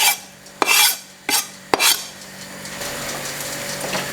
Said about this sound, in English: I'm going to add my dried shrimp, the chopped fresh chili